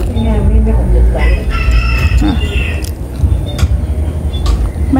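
A rooster crowing at a Vietnamese family home, loud and close, with clucking fowl and some background voices.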